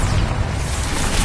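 A single heavy blast from the Bombarda explosion spell in Hogwarts Legacy fills the moment, a dense rumbling boom with a broad roar that holds steady for over a second without voices.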